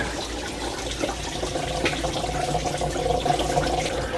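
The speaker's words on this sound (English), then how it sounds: "coolant is draining out." Coolant drains from an Audi Q7 engine during a water pump replacement in a continuous splattering trickle, steady and fairly close, with faint metallic clinks mixed in.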